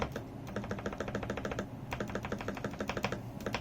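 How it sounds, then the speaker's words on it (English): Typing on a modded Redragon K552 mechanical keyboard with lubed Outemu Ice Purple switches and a lubed spacebar stabilizer, a close, steady run of rapid clacky keystrokes with deeper spacebar thocks mixed in. "you can already hear the difference between the stock rattly stabilizer and this."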